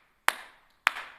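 Two sharp hand claps, spaced about half a second apart, each crisp and close with a short ringing decay in a reverberant church hall.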